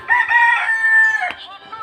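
A rooster crows loudly and close by at a Bhogali Bihu gathering, one sustained crow that breaks off into a short rough note and a few soft clucks.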